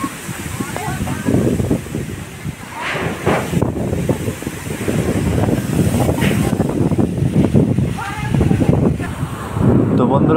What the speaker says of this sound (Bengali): ভীষণ ঝড়ো হাওয়া বা বৃষ্টি পড়ছে